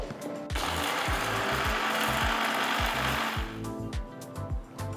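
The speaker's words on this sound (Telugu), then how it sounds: "వీటిని ఇప్పుడు బాగా పొడి పట్టుకోవాలి." Mixer grinder pulverising dried red chillies and spices into powder, a loud steady whirring grind that starts abruptly, runs for a few seconds and cuts off, with rhythmic knocking from the jar underneath.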